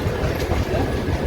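The Jhelum Express pulls out of Sabzi Mandi railway station after a two-minute halt, its carriages rumbling close by with a steady clickety-clack of wheels on rails.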